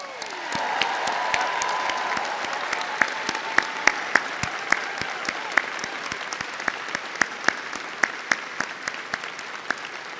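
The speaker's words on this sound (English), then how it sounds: "please join me also in thanking and giving a huge round of applause to today's speakers, including President Emeritus Jim Ryan" A crowd at a University of Virginia valedictory ceremony applauds the speakers with a broad, sustained wash of clapping. Sharp, close individual claps stand out regularly against it, and some voices run faintly under the applause.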